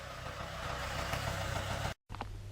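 A tractor engine idles with a steady, close, low mechanical rumble that cuts out briefly near the end, then resumes.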